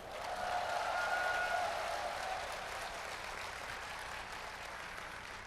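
A seminar audience applauds at moderate volume, a dense, even patter of many hands that peaks early and then eases slightly while continuing to the end.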